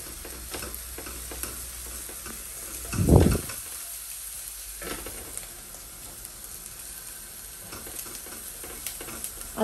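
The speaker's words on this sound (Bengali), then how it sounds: "আদাটা একটু ভালো করে ভাজে ভাজে করে" Chopped ginger fries in mustard oil in a hot pan with a low steady sizzle, a louder burst of stirring and scraping partway through, then more quiet sizzling with light utensil clicks.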